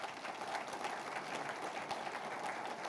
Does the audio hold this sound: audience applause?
yes